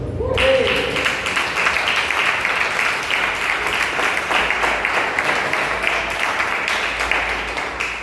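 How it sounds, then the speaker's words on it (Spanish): Church congregation in Cancún, Mexico applauding, sustained dense clapping filling the room with a voice briefly heard at the start. "Den un aplauso a Cristo."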